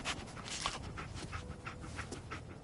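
Dogmeat, the dog companion in the video game Fallout 4, pants steadily and rapidly through a few seconds of quick, rhythmic breaths, close but not loud, with no talking over it.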